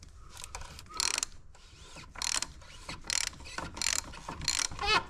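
Ratchet working on the oil filter housing cap of a 2017 Jeep JK, heard close up as repeated short clicking sweeps and pawl clicks in an irregular rhythm, fairly quiet with some handling noise between strokes.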